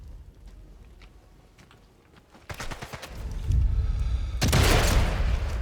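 A sniper rifle headshot in the video game Sniper Elite 5, heard as two loud booming blasts with rumbling tails after a quieter stretch of faint game ambience.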